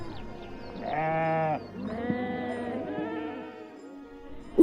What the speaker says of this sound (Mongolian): ишиг хурганы майлалдах